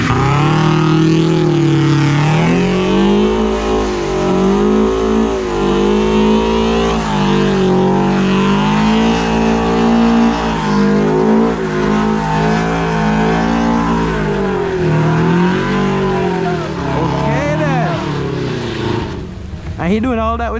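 A Subaru-Toyota FRS with about 200 horsepower doing donuts at a car meet, its engine revving hard and continuously with wavering pitch as it spins, loud and close, under shouting from a crowd.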